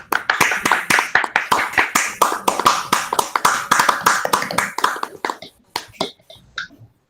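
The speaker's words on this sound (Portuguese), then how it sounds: "Podemos fazer umas palmas aqui" A small group at an education event claps in sharp, distinct, somewhat uneven hand claps, close and clear, thinning out to a few scattered claps before stopping, with no talk.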